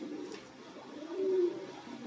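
A caged Rajshahi local Giribaz pigeon gives a single low, short coo mid-way, set against a quiet, steady background murmur.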